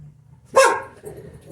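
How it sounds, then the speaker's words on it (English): A Chihuahua gives a single sharp, loud bark nearby, followed by quieter room noise. "Sorry, that's my dog. She reacts to everything."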